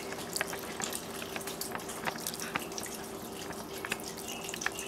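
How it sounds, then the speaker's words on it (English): Beef broth is poured into a roast pan, a soft continuous liquid trickle with small drips and splashes, faint and close, with no talk over it. "And then you're going to take some beef broth."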